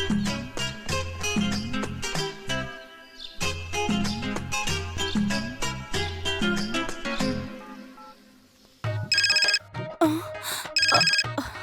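A phone ringtone in a Hindi-dubbed South Indian movie plays a loud, steady melodic tune with repeating notes, breaking off near the end before bright ringing bursts return.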